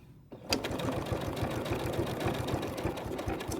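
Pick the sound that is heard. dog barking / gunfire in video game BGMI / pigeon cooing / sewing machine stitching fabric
sewing machine stitching fabric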